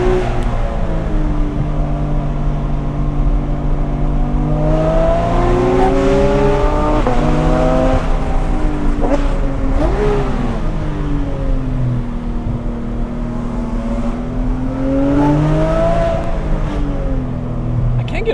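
A Porsche 997 GT3 with a 4.0L engine drives and revs on a road, its loud engine note rising and falling through several gear changes as a voice talks over it.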